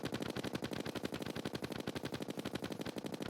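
Rapid automatic gunfire with icy bullets in the video game Terraria: a fast, even stream of sharp synthetic shots firing continuously at a steady rhythm throughout.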